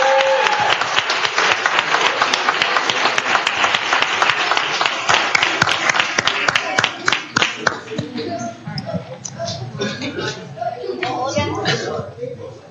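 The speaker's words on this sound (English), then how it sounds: "Let's give him one more round of applause" Applause from the audience at a Clayton, California city council meeting, a dense round of clapping that fills the room and then thins into scattered claps, with voices mixed in.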